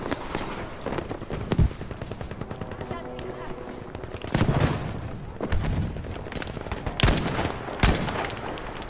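Sniper rifle shots ring out in a Battlefield 5 firefight, several sharp loud cracks standing out over dense background gunfire, with someone talking throughout.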